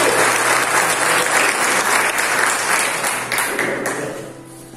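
Loud, sustained applause from a large crowd at a church conference, steady for several seconds before tapering off near the end.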